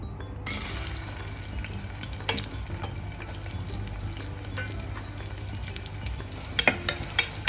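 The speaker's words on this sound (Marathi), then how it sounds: "त्याच्यामध्ये मी आता कांदा घालत आहे" Onion sizzles in hot oil over high heat for Kolhapuri mutton, a steady close fry with a few sharp crackles and stirring clatter near the end.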